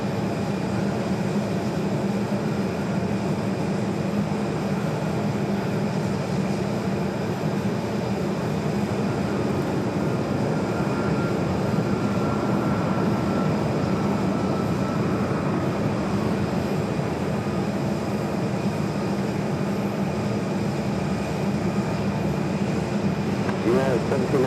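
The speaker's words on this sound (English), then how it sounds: "This is United Airlines 1796 coming in from Newark on the 757-200." A United Airlines Boeing 757-200 arriving at Phoenix Sky Harbor from Newark gives a steady, distant jet roar that swells slightly midway through, heard under background talk and radio chatter.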